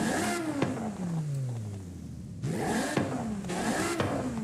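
Stock car engine in Forza Horizon 5 revving hard, pitch climbing and falling through repeated gear changes with sharp shifts, loud and close with no talk.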